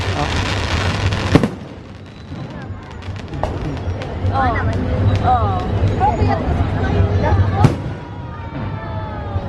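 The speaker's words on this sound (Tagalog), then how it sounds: "there is fireworks" Fireworks at a fireworks contest during the Sinulog festival in Cebu, Philippines, boom and crackle in the distance beneath a crowd's murmur and chatter, with a couple of sharp bangs standing out.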